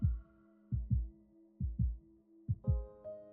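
A heartbeat sound effect from the video game Love and Deepspace, deep paired thumps in a steady lub-dub rhythm repeating four times over a soft sustained tone, close and clear with no talk.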